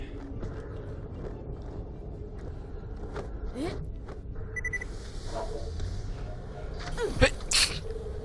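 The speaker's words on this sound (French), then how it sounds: "excusez-moi si on m'entend beaucoup éternuer" A single sharp sneeze bursts out near the end, close to the microphone, over a low background of game sounds and a few faint beeps.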